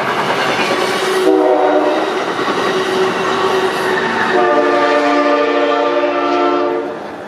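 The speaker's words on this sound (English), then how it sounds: "Have to excuse the train here for a second." A train rumbles past close by, its horn sounding in long sustained blasts over the steady roar of the rail cars.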